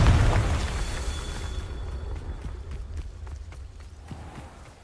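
A Confringo fire spell bursts in Hogwarts Legacy: a heavy, booming explosion at the start that rumbles away into a fading roar, with scattered footstep-like thuds and light clatter following.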